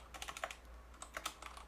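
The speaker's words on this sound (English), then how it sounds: "Why are you erasing and keep typing?" Keys clatter on a computer keyboard during a casual podcast recording, with two quick bursts of close, crisp typing separated by a short pause and no voices.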